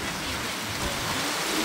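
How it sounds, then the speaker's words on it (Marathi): Heavy rain pours down steadily at Lonavala, a constant wash of close, even hiss with no breaks or voices. "भरपूर जोरात पाऊस आला."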